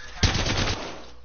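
A rapid burst of automatic gunfire from a video game weapon, a loud close rattle of quick shots lasting about half a second before fading out.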